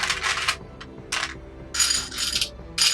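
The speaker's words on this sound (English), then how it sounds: "You know it's bad when she's grabbing more dice." Dice grabbed and rattled by hand at a tabletop role-playing game session: several short, bright clattering bursts separated by brief pauses, close and fairly loud, with no talking.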